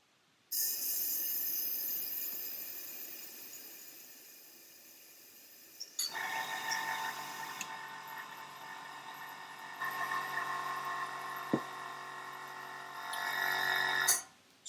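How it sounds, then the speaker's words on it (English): An airbrush air compressor runs with a steady, bright mechanical whine and hum, dropping in level midway and then shifting into a fuller, louder drone before cutting off near the end. "Just wait for my compressor to stop."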